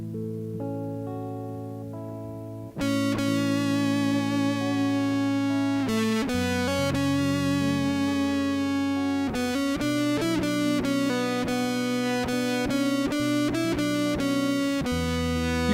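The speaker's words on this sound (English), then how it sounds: "You can also put some distortion on and do it with distortion like this." Sustained electric guitar notes of a melody ring out heavily distorted, with loud, thick chords and bends played alone after a quieter opening.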